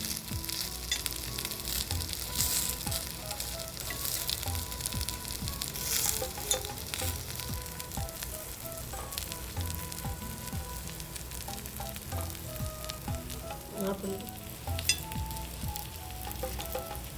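White sorghum paniyaram sizzle and fry steadily in a paniyaram pan as they are turned, a continuous close crackle with a few faint clicks of the turning tool and no talk.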